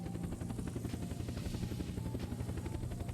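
A helicopter in the video game Unturned flies with a steady, fast rotor chop and a droning engine, loud and near throughout, with no one speaking.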